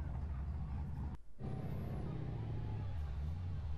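An old graphite-coloured Ford Mustang with black pinstripes rumbles low and steady close by on Summernats Main Street, its engine droning continuously apart from a brief dip near the start, with a faint high whine above.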